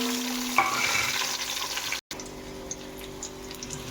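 Onions dropped into hot oil in a pan for a home-cooked biryani sizzle and fry with a steady, close hiss, briefly cut off midway before the frying noise resumes.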